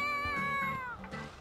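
A cat in The Sims 4 game lets out a clear, close meow with a long, falling tone, followed by a couple of shorter murmuring chirps.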